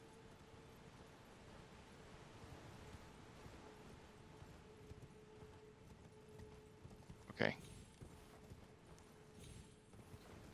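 Horse hooves gallop in the video game Elden Ring, a steady clip-clop blended into constant background noise, with one brief louder burst near the end.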